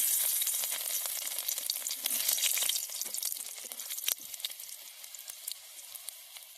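Garlic dropped into hot oil for a katla fish curry, a loud, crackling sizzle that bursts up early, then settles into softer, sputtering pops close by, with no talking.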